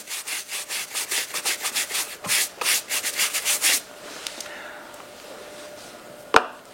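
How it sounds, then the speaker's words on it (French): Soft brush sweeping suede leather of Birkenstock sandals, a run of about a dozen quick rhythmic strokes that then stop, followed by faint handling and one sharp tap near the end. "Pour le cuir suédé, dit velours ou daim, faites là encore disparaître la poussière à l'aide d'une brosse souple."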